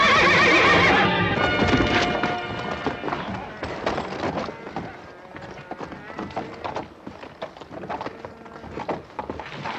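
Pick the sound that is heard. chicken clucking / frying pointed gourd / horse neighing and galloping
horse neighing and galloping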